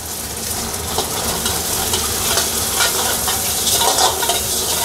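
Egg frying in cooking oil and being stirred in a pan for restaurant-style egg schezwan noodles, a loud continuous sizzle with repeated scraping strokes of a spatula, close and steady throughout.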